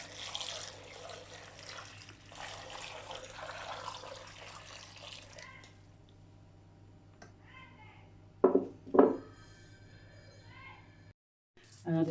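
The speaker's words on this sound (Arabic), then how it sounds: "انا دلوقتي حطيت الميه وغطيت وش البصل بالميه كده" Water is poured over onions in a container for pickling. A steady, close splashing stream lasts about five seconds, then the sound goes quieter, with a couple of sharp clinks and brief talk near the end.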